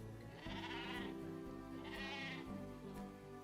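Dall sheep in the Arctic section of the Planet Zoo video game, bleating in two drawn-out, wavering calls over soft ambient background noise.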